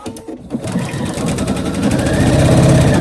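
A sewing machine stitching slim chino pants, starting up after a moment and running in a fast, steady mechanical patter that builds in loudness, close to the microphone.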